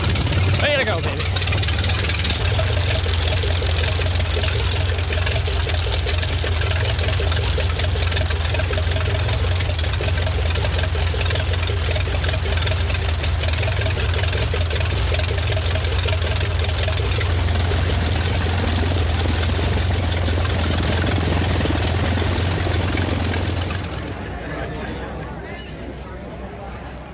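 An old propeller aircraft engine runs at a steady, loud, throbbing roar for over twenty seconds before the sound drops away, with a voice talking over it.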